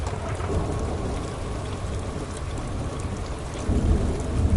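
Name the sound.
thunderstorm with heavy rain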